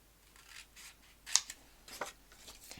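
Scissors snip through scrapbook paper in a short run of soft, crisp cuts, close and quiet with no talking.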